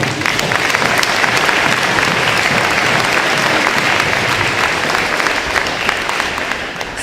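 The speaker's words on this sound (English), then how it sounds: "let's give them a round of applause" A sustained round of applause fills an arena at a youth sports closing ceremony, dense crowd clapping holding steady and loud throughout.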